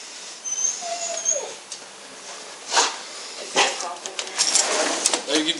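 A dog whimpers and whines in thin, high cries, with a brief bird-like chirp early on and scuffling noises nearby.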